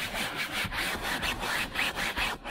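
A soft brush scrubs car upholstery in a Skoda Fabia, a close, rhythmic back-and-forth rasping with regular strokes about twice a second.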